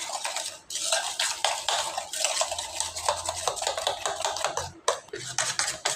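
Sugar and maida being beaten into a frothy batter for dream cake, a rapid scratchy clatter of a whisk against a bowl in quick uneven bursts with brief pauses, close and moderately loud.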